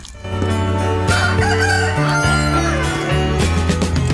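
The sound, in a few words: rooster crowing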